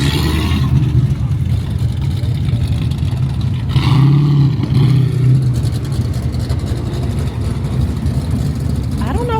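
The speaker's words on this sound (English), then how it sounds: "You can see some of the other cars coming in." Cars rolling in at a drag racing track, a steady low engine rumble with a brief swell of revving midway, close and continuous, with speech mixed in.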